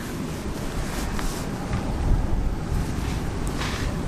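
Blustery wind buffeting the microphone outdoors in Simpang Renggam, Malaysia, a steady low rumble with gusty swells throughout and no voices.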